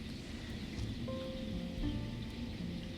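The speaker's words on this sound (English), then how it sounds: "Oh, is it hailing? It might be hailing." Hail falls outside a hotel room as a steady, soft, broadband pattering hiss that continues for the whole stretch, fairly quiet and muffled, with no voices.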